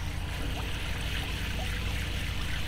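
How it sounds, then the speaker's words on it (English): Tap water running steadily while a bird feeder is washed, a constant hiss and trickle filling the whole stretch, fairly soft and unbroken with no talking. "You just really run that cool under the water too."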